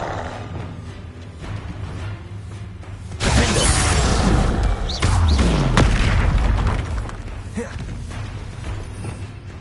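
The Confringo spell in Hogwarts Legacy lets off loud booming blasts with crackling, shattering debris, two heavy bursts in a row over ongoing game noise during a duel.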